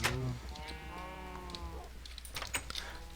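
Animal calls from cows in Better Than Wolves, a Minecraft mod video game: a drawn-out tonal moo-like bleat in the first two seconds, then a few short clicks and game noises, quiet and with no speech.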